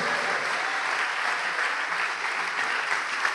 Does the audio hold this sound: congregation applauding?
yes